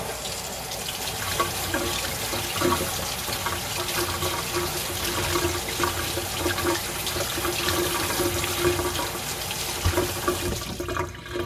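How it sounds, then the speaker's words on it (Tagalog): Tap water runs steadily into a sink while a bitter melon (ampalaya) is rinsed under it before cutting, a continuous close splashing wash with no talk. "before you cut the bitter melon or ampalaya, you have to wash it."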